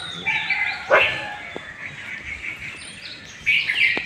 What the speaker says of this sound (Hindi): तो देखिए यहाँ पे पंछी का आवाज़ सुन सकते हैं, सुबह सुबह का नज़ारा।